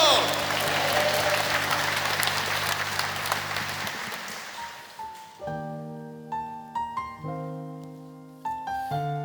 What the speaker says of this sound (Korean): 축복의 박수를 드리겠습니다